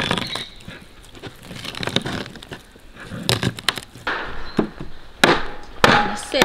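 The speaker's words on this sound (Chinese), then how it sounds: "先把这个排骨给剁了啊" Pork ribs hacked with a heavy cleaver in an outdoor courtyard, a series of sharp woody thuds in uneven rhythm, some close and loud, with running water and birds in the background.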